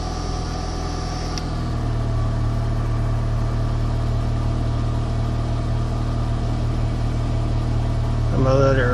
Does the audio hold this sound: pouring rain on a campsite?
no